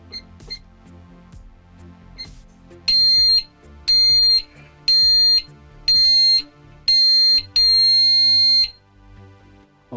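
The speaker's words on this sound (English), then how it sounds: "Okay, one blip, the alarm is set." A Pyronix Enforcer V11 wireless alarm panel under test sounds a loud, piercing electronic tone in six evenly spaced bursts, the last one longer, after some quieter clicks and handling noise.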